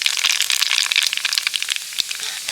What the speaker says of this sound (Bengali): আমি এক চামচ কালো জিরে দিয়ে দিচ্ছি আর এই কালো জিরেটা ভাজার পর